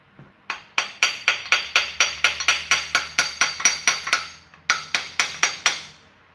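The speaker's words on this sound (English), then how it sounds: "Yes, I know it's not good to hammer on them." Steady metallic hammer blows ring out in a fast, even rhythm, about twenty strikes with a brief pause before a final run of hits, hammering on parts of a blown-up 455 engine near the middle bearing.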